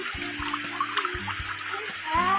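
Heavy rain pours steadily while rainwater streams in a thin, thread-like flow into a collection vessel, a continuous splashing trickle over a low background rumble.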